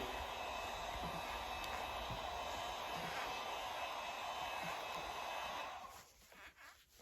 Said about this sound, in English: It's kind of a nice setting on the heat gun instead of just shutting it off.